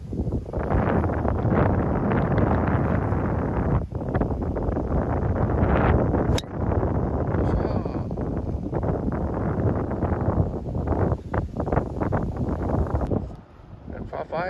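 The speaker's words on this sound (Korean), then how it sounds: "와 바람" Strong wind buffets the microphone steadily on a golf course at Sky72, a loud continuous roar and rumble lasting throughout with a brief dip near the end.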